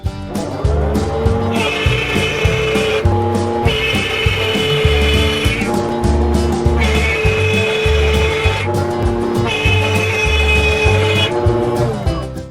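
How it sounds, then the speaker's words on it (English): A router with a quarter-inch straight bit, set a quarter inch deep, cuts through wood, sustaining a loud, steady whine, and the pitch rises and falls as the bit bites in four repeated passes. "I've got a 1/4 inch straight bit in there, and the depth is set to a 1/4 inch."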